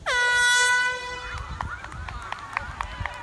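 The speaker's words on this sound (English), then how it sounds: "And the air horns up" A loud air horn blasts for about a second to start a high school cross country race, then fades into a distant crowd murmur with faint scattered noises.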